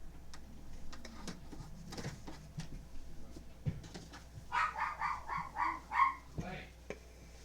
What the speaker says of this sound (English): My dog thinks it's time to eat